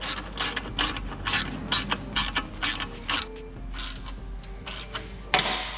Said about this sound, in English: I'm gonna go ahead, tighten down the clamp. This is a 13 millimeter.